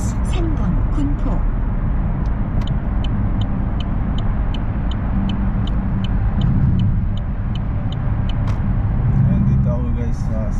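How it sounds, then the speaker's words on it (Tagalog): Highway traffic in South Korea near the Sanbon and Gunpo exit rumbles loudly and continuously, car engines and tyre roar heard from inside a vehicle, with a person talking over it. "Dito maraming sasakyan dito."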